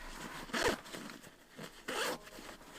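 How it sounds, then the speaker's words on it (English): YKK zipper on a 5.11 Rush 12 backpack being zipped in two quick strokes, a longer pull then a second one a beat later, close up with faint rustling between. "While I'm zipping away here,"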